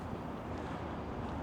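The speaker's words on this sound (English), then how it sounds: "Oh, it's so windy." Steady, heavy wind buffets the microphone, a continuous low roar with no other sounds breaking through.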